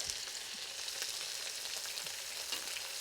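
Buttermilk-soaked shrimp dredged in cornstarch fry in very hot canola oil in a wok, a constant crackling sizzle dotted with sharper pops, fairly quiet and continuous with no talk.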